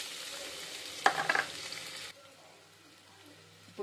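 Onions hitting hot oil in a kadai for a mutton masala curry give a sudden loud sizzle with a few sharp crackles, then settle into a quieter, steady frying hiss.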